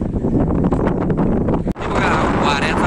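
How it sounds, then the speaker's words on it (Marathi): Strong wind at Yevti Dam buffets the microphone with a loud, continuous roar and rumble, briefly dropping out for an instant before resuming just as hard. "बघा वाऱ्याचा किती वेग आहे"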